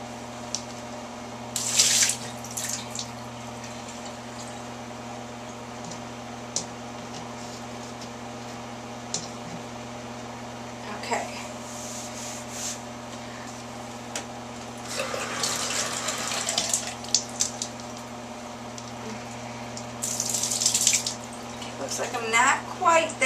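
Running tap water splashes intermittently in a few bursts, rinsing a glass fish tank after drilling, over a steady low hum with faint background noise.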